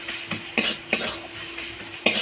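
A spice paste with a pinch of salt sizzles in a pan, broken by several sharp scraping stirs of a utensil against the metal in quick, uneven succession.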